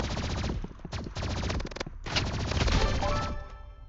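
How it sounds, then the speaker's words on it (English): Energy pistol fire in the Roblox game Rivals: loud, rapid bursts of repeated shots with brief gaps between volleys, crackling and dense, followed by a short ringing tail. "I even took him out with the energy pistols before he even got him"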